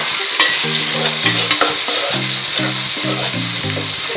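Tomato sautés with onion, green chilli and curry leaves in a pan for chicken kulambu, a loud, steady sizzle with stirring scrapes alongside a repeating melodic tone pattern.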